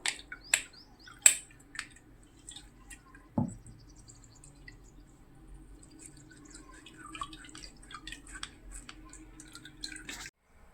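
Liquid drips and squishes as ground fish bone paste mixed with milk is strained, with several close wet plops early on followed by soft, irregular trickling and faint handling.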